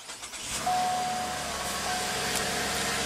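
A 2015 Cadillac SRX's 3.6-liter V6 engine fires up via push-button start and settles into a steady idle, a close, even hum with a brief tone near the start.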